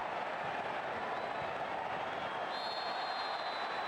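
A huge stadium crowd in New Jersey at a Barcelona vs Juventus football match keeps up a dense, steady roar, loud and continuous throughout.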